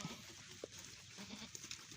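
Goats on a farm bleat faintly, with a couple of short calls that sound a little distant over soft background noise.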